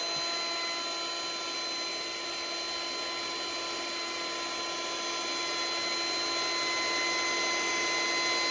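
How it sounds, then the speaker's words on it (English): An Exit portable air pump sucks the air out of an air mattress with a steady, high-pitched electric whine that stays constant and loud throughout, without any talking. "I'm going to turn it back on. And then that'll suck all the air out."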